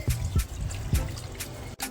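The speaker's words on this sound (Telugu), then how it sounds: "వాటర్ వేస్తున్నానండి." Water pours into a pressure cooker holding goat head curry, a close, gurgling trickle with uneven splashes and dribbles, heard alone.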